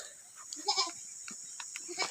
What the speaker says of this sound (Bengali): ওই যে ছাগলটা